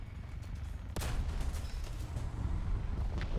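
A tank cannon fires in the War Thunder video game during a T-64BV match, one sharp loud blast near the one-second mark above a steady rumble of engine and battle noise.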